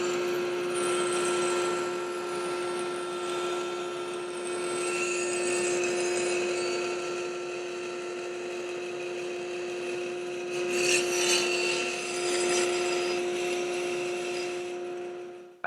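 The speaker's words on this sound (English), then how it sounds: "So what we'll do now is get the bandsaw going and we'll cut these guys up and clean them up." A bandsaw runs with a steady tonal hum while cutting wooden templates, with an even whirring rasp throughout and a slightly louder cutting burst near the end, close by.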